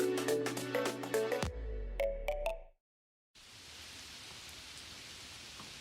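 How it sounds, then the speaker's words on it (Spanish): Heavy, dense rain pours against a balcony on a grey day, a broad, steady hiss that sets in after a burst of music and a brief silence. "es terrible como llueve. Llueve todo el tiempo, afuera tupido y gris"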